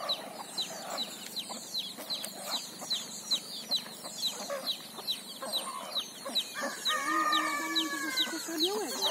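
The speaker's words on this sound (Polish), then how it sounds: "Jakiś kogut mnie pogoni." A rooster crows loudly near the end, while other free-range chickens cluck and chirp repeatedly throughout against a busy outdoor background on La Digue, Seychelles.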